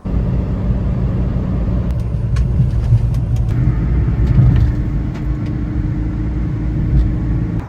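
A Honda Acty kei truck drives along the road, its small engine giving a steady close rumble with road and wind noise throughout and a few faint clicks and rattles.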